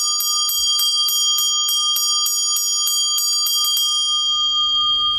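An old sheep or goat bell with a leather strap rings in a quick series of about a dozen bright metallic strikes, each with a solid sustained tone, then fades into quiet.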